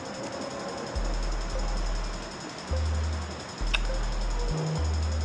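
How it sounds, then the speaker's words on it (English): Sewing machine stitching around the fine edge of a shirt collar in short bursts, its motor whirring loudly in stop-start runs with brief pauses between, close and alone. "We are going to sew a very clean stitch around this fine edge."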